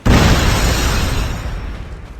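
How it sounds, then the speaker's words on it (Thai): A loud, sudden grenade explosion in Call of Duty Mobile blasts out close by, its broad roaring rumble slowly fading over about two seconds with no talking. "เฮ้ยระเบิด"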